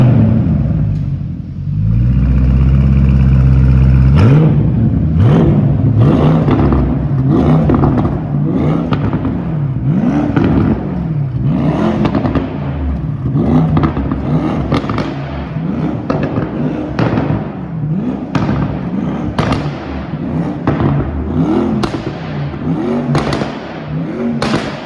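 Car engine with a titanium exhaust and muffler delete on a wagon, cranking over and firing up loudly, then a series of sharp, repeated revs rising and falling over a rough, rumbling idle.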